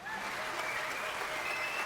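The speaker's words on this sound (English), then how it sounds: "I have a course crowd cheering sample" A crowd cheering sample sits in an electronic music remix, a steady, dense wash of clapping and cheering that holds evenly throughout.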